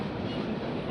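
A passenger train on the Utkal route pulls into Haridwar station, giving a steady low rumble heard alone for under a second.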